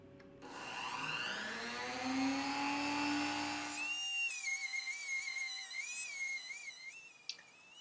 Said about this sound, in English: Dremel tool seems to work just fine for these small items